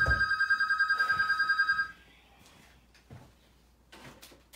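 An indoor telephone rings in a rapid repeating electronic trill for about two seconds, loud and close, then stops, leaving quiet room noise with a few soft knocks.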